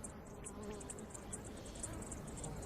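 An insect pollinator visits a Lapeyrousia flower with a faint, continuous buzzing hum, while a quick series of high chirps repeats steadily in the background.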